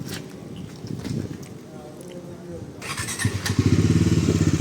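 A Bajaj Dominar 400 motorcycle rides past, its engine note swelling louder toward the end with rhythmic pulsing, while people talk and laugh over it nearby.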